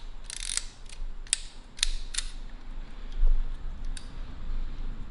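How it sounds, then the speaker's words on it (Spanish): An older analog film camera in worn condition ratchets as its advance lever winds the film post, with several crisp mechanical clicks and a shutter snap, close and dry against a low hum. "Giramos, se ve que gira el poste que jala el rollo, y cuando disparamos se ve que se abre el obturador."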